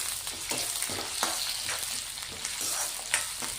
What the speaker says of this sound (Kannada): ಸಾಸಿವೆ ಜೀರಿಗೆ ಚಟಪಟ ಅಂದಮೇಲೆ ಈರುಳ್ಳಿನ ಹಾಕ್ತಾ ಇದ್ದೀನಿ